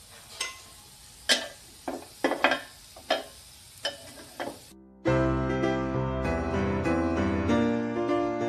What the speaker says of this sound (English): So I'm just gonna fry the onion a little bit.